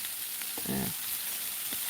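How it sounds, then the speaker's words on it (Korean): Rice with carrot and butterbur frying in melted butter for a butter, cheese and meat fried rice, giving a steady, even sizzle with no talking. "밥이 고소하게 버터 녹인 물에 이렇게 지금 볶고 있어요."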